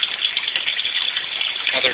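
Salt water mix gushing steadily into a pond skimmer, a continuous close rushing pour with no pauses.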